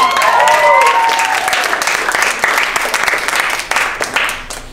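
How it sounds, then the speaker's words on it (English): A studio audience at a game-show season finale applauds Quincy's first win, a dense, loud burst of clapping that holds steady for several seconds before thinning slightly, with faint voices mixed in. "Everyone give a Quincy round of applause!"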